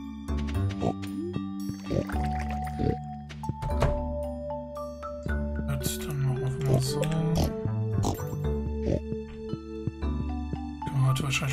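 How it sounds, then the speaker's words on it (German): Farm pigs in the video game Stardew Valley oink repeatedly among clunks, dings and other game sounds. The short grunts are clear and close, with no talking. "Schweine wollen raus."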